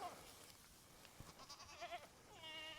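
Goats bleat a few times nearby, short wavering calls with a longer bleat at the end, over faint outdoor background noise.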